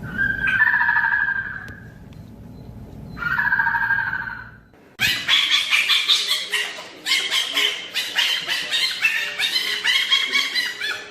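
A fennec fox calls in the desert, first two drawn-out whining yips, then a fast run of sharp, loud, repeated barks and yips close by.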